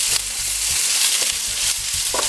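Garlic frying in oil in a paella pan, a loud steady sizzle with repeated scraping and stirring knocks from a utensil close by.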